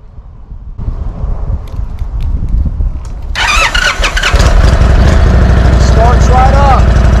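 An Indian Dark Horse motorcycle is started: quiet clicks and ignition sounds, then the engine cranks and catches into a loud, close idle with rising revs.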